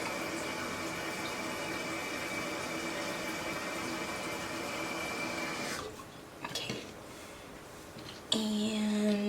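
Photo developer liquid is poured into a container in a quiet, steady wash of liquid noise that stops after about six seconds, followed by a few faint knocks and a brief tonal hum.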